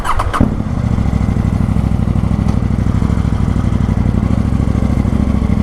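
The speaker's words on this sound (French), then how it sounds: "je suis sur la moto de mon pote. Et donc c'est une KTM Duke 790." A KTM Duke 790 motorcycle runs with a loud, close, steady engine drone that holds at an even level throughout. A short clattering burst comes near the start, and no one speaks.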